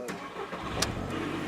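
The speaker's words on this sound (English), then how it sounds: "Now, let's start the car up." 2005 Volkswagen New Beetle cabriolet engine cranking and catching, a brief mid-pitched start settling into a rough idle with a few sharp clicks, fairly quiet against background noise.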